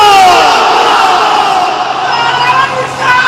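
A large crowd at a Bengali religious sermon roars together in loud, sustained chanting in answer to the preacher's call, a dense wall of massed voices that swells at the start and continues steadily to the end.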